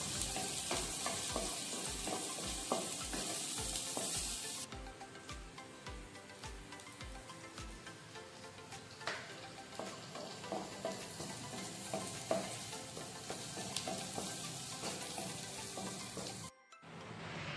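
Shallots and curry leaves sizzle loudly in hot oil while tempering for dahi baingan, a dense, steady crackling fry with rhythmic low knocks early on, then continuing sizzle with scattered pops before a brief cut near the end.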